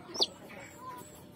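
Newly hatched native chicken chicks give a brief high peep early on, followed by faint chirps over a quiet background.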